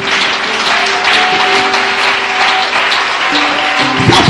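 A church congregation claps and cheers in praise during a worship service, dense loud applause filling the room steadily for several seconds with sustained voices and music tones beneath.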